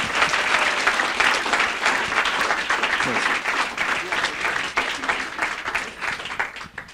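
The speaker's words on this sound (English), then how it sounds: "How about a big round of applause for the girls swim and dive team?" A school board meeting audience gives the girls swim and dive team a big round of applause: dense, steady clapping from many hands that fills the room and tapers slightly near the end.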